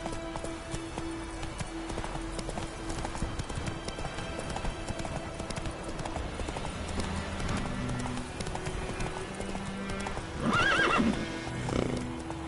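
Horse galloping in The Witcher 3: Wild Hunt, a continuous rapid clip-clop of hooves under game ambience, with a loud neigh breaking through near the end.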